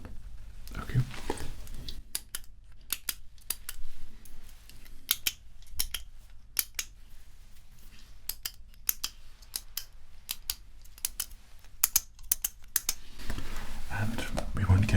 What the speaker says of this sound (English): this is the sound which is going to be used when you're using your pen